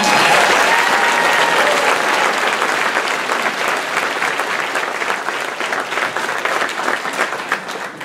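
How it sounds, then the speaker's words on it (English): A large crowd applauds at a high school graduation ceremony, a dense, steady roar of clapping that holds loud throughout and tapers slightly toward the end. "I think that deserves a round of applause."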